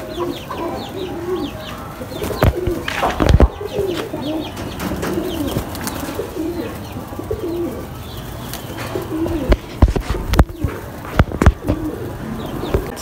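A flock of pigeons coos repeatedly close by after being released, with sharp bursts of wing flapping scattered through the steady bird chatter and hen-like clucks; no voices are heard.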